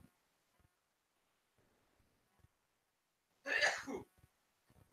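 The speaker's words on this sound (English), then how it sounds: "I've got to sneeze." A single sharp, loud human sneeze bursts out after a few quiet seconds of faint breaths and small rustles, during a nighttime astronomy observing session in southeastern Arizona.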